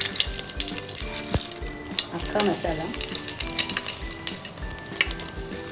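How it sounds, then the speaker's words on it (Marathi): Cumin and whole spices spitting in hot oil for a tempering, a loud close sizzle with sharp crackles and the clink of a spoon stirring, while a voice speaks briefly over it. "चला आपण आता फोडणीमध्ये फ्राय करून घेणार आहोत"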